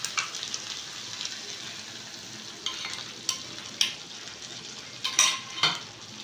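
Yogurt curry with pointed gourd being stirred in a pan, a soft low sizzle broken by several scraping strokes and clinks of a spoon against the metal, close and quiet.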